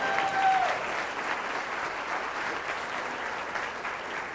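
Steady, full audience applause fills a college presentation hall at Seminole State, holding an even level throughout with a brief voice at the very start.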